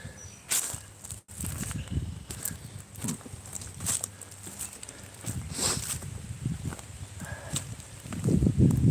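Horses walk on a large horse farm in Northwest Ohio, their hooves clopping in irregular, fairly close thuds over a rustling outdoor background.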